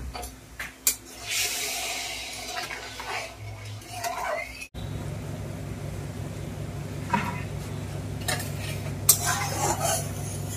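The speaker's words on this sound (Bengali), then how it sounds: "এবার ধীরে ধীরে চিনিটাকে গলিয়ে নিচ্ছি" Sugar melting in a pan with a bay leaf, with a spoon scraping and clinking against the metal, a soft sizzle and occasional knocks close by.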